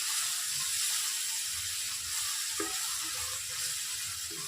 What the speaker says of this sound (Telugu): ఆయిల్లోనే ఫ్రై చేసుకోవాలి